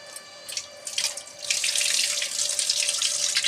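Tap water runs into a kitchen sink while red chillies are rinsed under it, starting with light splashes and then turning into a steady, close gushing stream.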